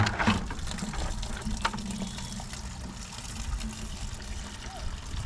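Water from a garden hose splashes and fills a bucket being rinsed out during apple pressing, a low steady gushing that runs throughout at moderate level, fairly close.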